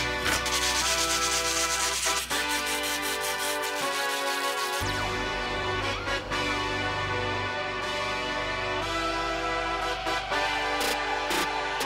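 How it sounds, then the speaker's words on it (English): Continuous scraping and rubbing of hand sanding on a concrete half pipe, steady and close for a long stretch, with shifting gritty strokes and no voices. "So we probably need to sand the entire thing by hand."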